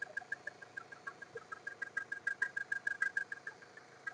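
A Mahindra XUV500 W10 engine idles quietly with a rapid, even ticking pulse, steady and faint, no voices.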